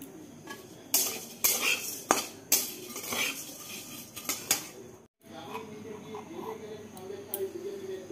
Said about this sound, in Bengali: এখানে যে কাঠখোলা একটু চিড়ে ভেজে নিচ্ছি চায়ের সাথে খাওয়ার জন্য